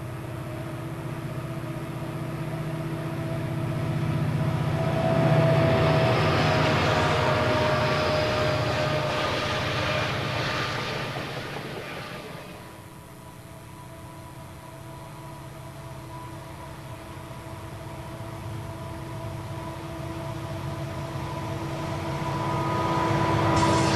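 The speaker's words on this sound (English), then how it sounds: "This pair of locomotives drifting downgrade doesn't look like much in the way of firepower." Two Conrail locomotives drift downgrade at Horseshoe Curve in Pennsylvania, a steady diesel hum with tonal drones that swells as they pass near, dips, then rises again.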